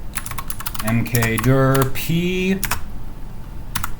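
A computer keyboard clatters in quick bursts as a command is typed during a Linux install, the sharp key clicks mostly under someone speaking, with a few taps left alone at the end.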